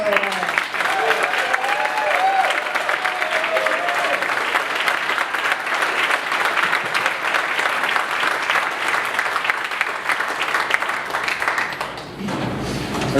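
Audience at a 1 Million Cups startup event gives a sustained round of loud, dense applause, with a few voices and whoops near the start and the clapping tapering off near the end.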